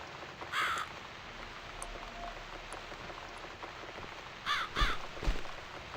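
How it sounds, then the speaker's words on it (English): A crow caws in The Cat Lady video game, one harsh call early, then a double caw near the end, over a steady patter of rain and a few soft thuds. "I guess I'll need to make more effort to scare this awful bird away."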